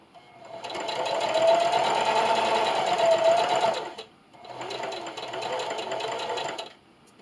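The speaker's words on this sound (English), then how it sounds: "And just keep sewing." Sewing machine stitching a towel at straight stitch length 2, running loud and close in a steady fast whir for about three seconds, pausing briefly, then running again.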